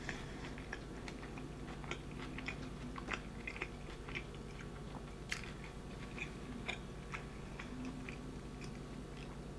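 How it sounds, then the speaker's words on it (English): Close, crisp crunching and chewing of sushi rolled with lettuce, mango and cream cheese, with repeated irregular bites and crackles over a faint steady background hum, no talking. "Surprisingly, the lettuce goes well with it, because it gives it this crunch."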